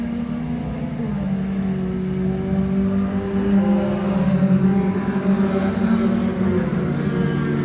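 Race cars at Can-Am Speedway pulling away on a green-flag restart, engines revving and droning loudly in a rising whine that swells around the middle, with a track announcer talking over the roar.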